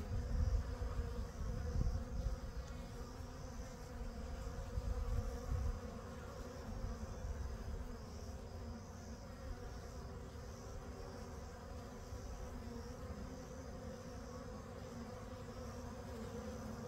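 Honey bees from freshly installed packages hum around their hive in a dense, continuous buzz, close and steady throughout, with a few louder passes near the start and no talking.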